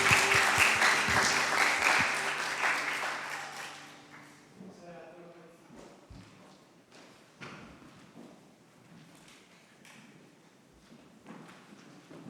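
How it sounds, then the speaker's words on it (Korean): A church congregation at an air force base chapel service gives a burst of applause that is loud at first, then dies away into scattered claps, thumps and quiet voices. "우리 하나님께 영광의 박수 올려드리겠습니다"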